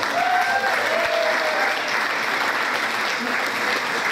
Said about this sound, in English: So a round of applause for both of them.